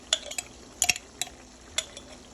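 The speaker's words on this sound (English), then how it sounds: "Stir that together." A spoon scrapes and clinks against a pot while garlic is stirred into a seafood boil, a few sharp metallic taps spaced unevenly, close and fairly quiet with no talk.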